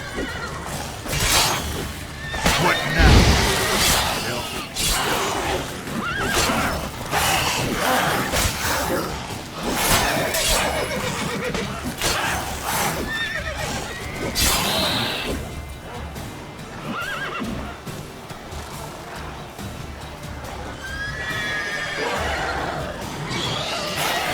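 A horse in The Witcher 3 neighs and kicks, loud whinnies and sharp impact crashes mixed with game combat sounds and occasional voices.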